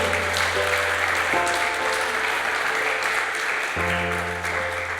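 Church congregation applauding during a Sunday service, a steady spread of clapping over sustained organ or keyboard chords that shift partway through.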